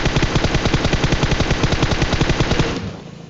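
Rapid automatic gunfire from the video game PUBG Mobile, loud and evenly paced shots in one sustained burst that cuts off near the end, leaving a softer background.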